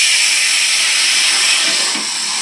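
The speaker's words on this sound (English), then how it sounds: "So that immediately generates steam." Water poured into a hot pan of browning gyoza erupts into a loud, steady steam hiss that holds evenly and eases slightly near the end, with no voices.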